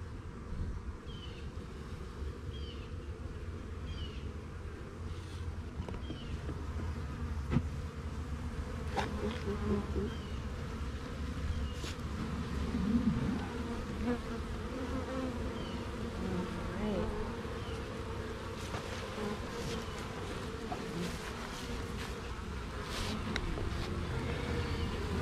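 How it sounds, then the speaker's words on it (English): A dense, steady hum of many honey bees buzzing close by around an upturned hive box during a colony cut-out, droning continuously with faint wind rustle underneath. "a lot of bees have run up here and we flipped the box over"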